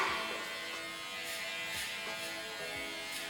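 Steady electric hair clipper buzz during a fade haircut runs without a break, a close bright hum with faint scraping strokes passing through it.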